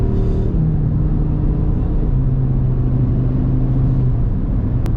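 Audi RS3 8Y turbocharged five-cylinder engine droning steadily from inside the cabin, a loud low rumble with a faint rising tone, no speech.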